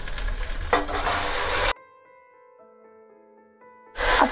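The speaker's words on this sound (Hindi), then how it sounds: "अब हम इसमें 4 चॉप किए हुए टमाटर डाल देंगे।" Chopped tomatoes hit a pan of frying peas and mushroom with ginger and green chilli, a loud burst of sizzling and stirring that cuts out into near silence before the sizzle returns.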